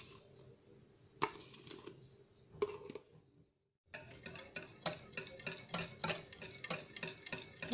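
A whisk beats three eggs with fresh cream in a bowl, making quiet, rapid rhythmic clicking and tapping against the sides, briefly pausing before resuming faster.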